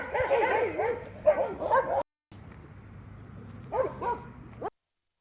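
Several dogs bark, yip and whimper at a dog park in close, lively bursts, with a short silent gap and a quieter stretch before a final flurry.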